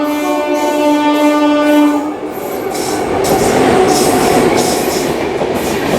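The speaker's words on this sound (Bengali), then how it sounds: "আর এখন যাচ্ছে শিয়ালদা নিউ দিল্লি রাজধানী।" The Sealdah–New Delhi Rajdhani Express sounds a long, loud horn and then roars past close by, its wheels rattling and clattering steadily along the track.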